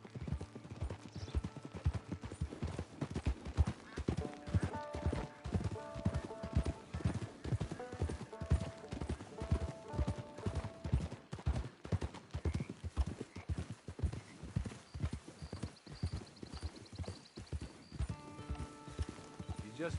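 Horse hooves clip-clop steadily and rhythmically in a PS4 video game, loud and close, with an occasional whinny and faint game music tones behind.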